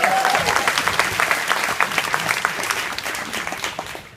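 Loud, sustained applause from a dinner-and-dance audience at a Robert Bosch Singapore company event, dense clapping filling the whole stretch with a faint cheer and murmur of crowd voices mixed in.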